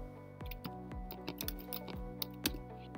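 Someone types on a computer keyboard, producing a few soft, close keystrokes spaced unevenly over a steady low background hum.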